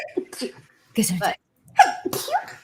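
A single sharp sneeze between bursts of nearby conversation, quick and close to the microphone.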